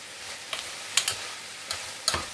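Onions frying in a pan, turning glassy, with a soft continuous sizzle and a few quick scraping stirs, close and fairly quiet, with no speech.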